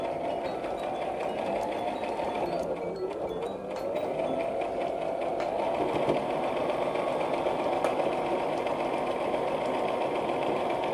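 A sewing machine stitching with cotton thread makes a fast, continuous mechanical whir and rattle, close and steady throughout, with one brief slowdown partway through and no voices.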